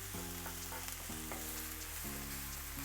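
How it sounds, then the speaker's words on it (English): Vegetables and quinoa sautéing in a pan in the style of fried rice, a soft continuous sizzle with low steady hum beneath, nearby but quiet, no voices. "And we want to saute that for about 5 minutes."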